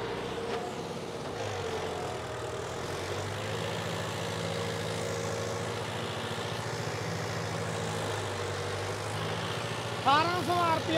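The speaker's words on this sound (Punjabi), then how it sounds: "ਆਰਪੀਐਮ ਤੇ ਟਰੈਕਟਰ ਚੱਲ ਰਿਹਾ ਵਾ" Mahindra Arjun 605 DI tractor with a modified diesel pump running in second gear, a steady droning diesel hum held at constant revs throughout, with a brief higher whine rising near the end.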